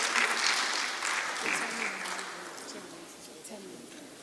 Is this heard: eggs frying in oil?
no